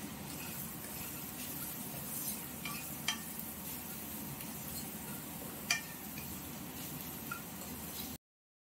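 Nuts frying in a pan for Bombay duck curry, a low continuous sizzle and crackle with two sharp utensil clinks against the pan, quiet and close, ending abruptly.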